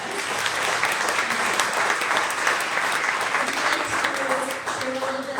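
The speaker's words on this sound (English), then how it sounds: "So let's give Joe a round of applause." A crowd at a chamber of commerce quarterly coffee meeting gives sustained applause for a scholarship recipient, a dense continuous wash of many hands heard from across the room, with faint voices underneath.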